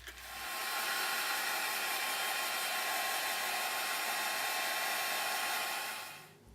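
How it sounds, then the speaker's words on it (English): An embossing heat gun drying damp watercolor paper, switched on for one continuous steady whir and hiss that holds at even loudness for several seconds before stopping, close by with no talking. "So I'm going to grab my air gun, my embossing gun, I should say, and help that out a little bit."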